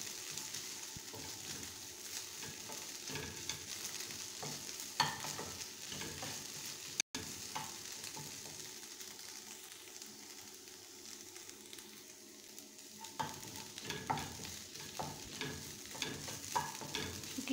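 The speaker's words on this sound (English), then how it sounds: "Na koroga." Coconut fish curry with mango is stirred in a pot, giving soft scraping strokes over a low, steady sizzle that continues throughout at a fairly quiet level.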